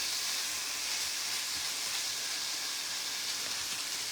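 Meat for chili browns in a hot pan, giving an even, steady sizzling hiss that holds at one level for several seconds, close up and with no talking.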